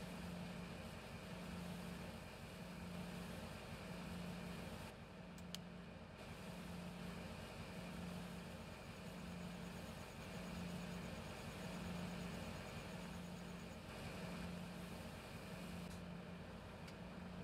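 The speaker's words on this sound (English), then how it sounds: "Gotta have our engine running to unload." Engine of a farm vehicle in Farming Simulator 17 keeps running during unloading, a steady droning idle with a rhythmic low pulse that holds unchanged throughout, no voices.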